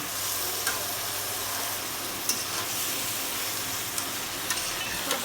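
Steady sizzling of curry with tomato and garam masala frying in a pan, with occasional scraping clicks from stirring, close and continuous, with no voices.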